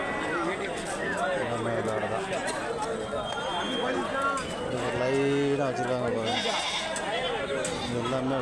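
Goats bleat repeatedly, near and far, at the busy Mukkudal goat market, with overlapping high calls rising over constant crowd chatter and people talking throughout.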